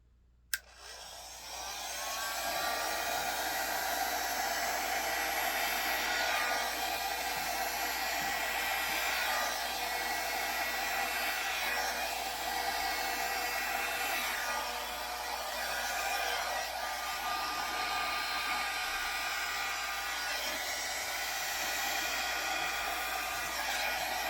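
A hair dryer blows across a flip cup acrylic pour of 24K gold, metallic, glitter and black paint, a loud, close, steady whooshing roar that runs unbroken for over twenty seconds with no voices.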